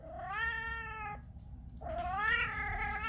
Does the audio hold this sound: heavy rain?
no